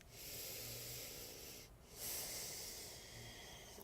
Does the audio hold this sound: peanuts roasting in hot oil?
no